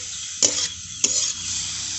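Prawns coated in Kashmiri red chili, coriander leaves and salt fry in a pan, a steady close sizzle broken by two bright splattering bursts about half a second apart.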